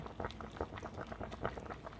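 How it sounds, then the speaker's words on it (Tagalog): Liquid boils in a cooking pot, a steady bubbling and churning patter of moderate loudness, with no talk over it. "Kumukulo, kulo, kulo, kulo, kulo."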